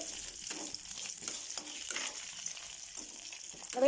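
Onions sautéing with curry leaves in a pan for beans poriyal, a steady close sizzle and crackle with light stirring scrapes, heard alone without talk.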